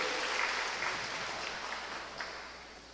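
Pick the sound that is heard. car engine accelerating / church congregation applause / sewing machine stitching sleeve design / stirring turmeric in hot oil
church congregation applause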